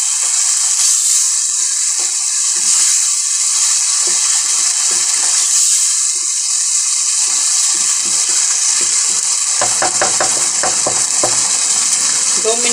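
Chickpea cooking water poured into a hot chickpea curry sets off a loud, constant sizzle and hiss, with stirring and bubbling bursts toward the end.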